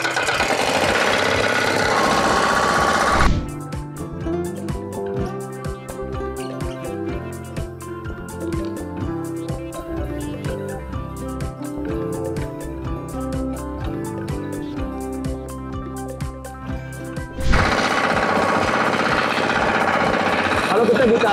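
The diesel engine of an FTI 2010 mini four-wheel tractor works a wide rice field with a rapid, steady knocking chug. The chugging runs close and loud through most of the stretch, with louder, denser sound before and after it.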